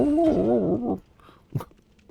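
A dying enemy in the video game Dark Souls III lets out a howling, wavering cry like a hound dog, loud for about a second before it cuts off, followed by faint thuds.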